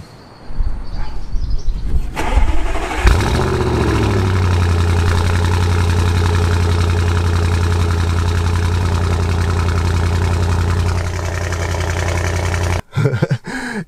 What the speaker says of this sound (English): I've just done a cold start in it this morning when I started it.